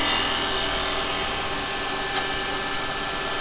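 Steady broadband scraping hiss of a gouge cutting wood on a spinning wood lathe, loud and continuous with no talking.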